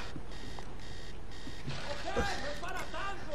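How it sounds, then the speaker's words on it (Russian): A repeating electronic beeping alarm in the video game Max Payne 3, set on a yacht, sounds in steady pulses, with voices talking over the second half. "И будильник сработал."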